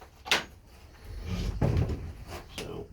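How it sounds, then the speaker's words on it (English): A wooden Dutch door on a suburban homestead knocks and thuds as it is opened and closed, several short clunks in a few seconds, close and fairly quiet. "My wife she thought it would be fun to have a Dutch door"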